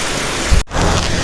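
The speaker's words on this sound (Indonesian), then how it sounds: "hujan turun deras dan angin kencang" Heavy rain with strong wind in South Bogor, a dense, loud hiss of downpour filling the clip, broken by a very brief cut before the steady roar resumes.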